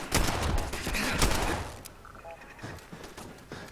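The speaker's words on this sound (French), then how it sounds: "il faut encore qu'on nous tire dessus" Video-game gunfire is aimed at the player during exploration in Fallout 4, heard as a dense, loud volley of shots that fades into scattered bangs and game sounds while a voice is faintly present.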